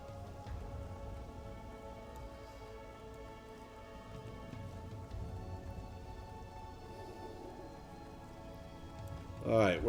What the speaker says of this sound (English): Oh, it's raining out.